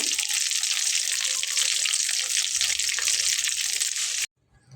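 Potatoes coated in breadcrumbs frying in hot oil, giving a steady, close hiss and sizzle that cuts off abruptly just before the end.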